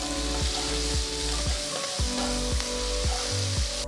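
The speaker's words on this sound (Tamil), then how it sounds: "பொடிசா நறுக்கின ஒரு வெங்காயம் சேர்த்து நல்லா கலந்து விடுங்க." Chopped onion sizzles steadily in a hot pan, with occasional scraping stirs.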